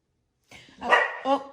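Pet dogs indoors barking at commotion outside, a couple of sharp close barks with a yip after a short silence.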